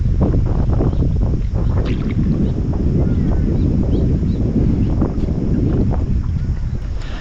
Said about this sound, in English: It's super windy at the moment.